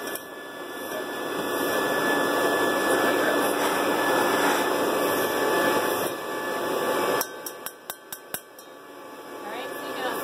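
A cleaning machine running on its high setting whirs loudly and steadily, sucking up dirt, then cuts off abruptly, leaving a quieter hum with several sharp clicks and clinks.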